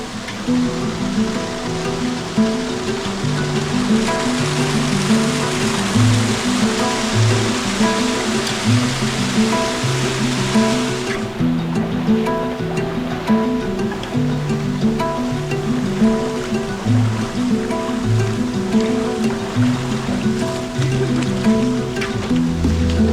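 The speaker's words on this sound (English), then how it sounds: "Sounds like we're coming up to a waterfall." Rushing water in Bali, a steady broadband roar that grows louder and closer, with a brighter hiss for the first half before it settles into a deeper, fuller rush.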